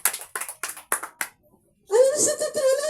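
A church congregation at a Sunday worship service claps in five short separate bursts, then a loud voice takes over.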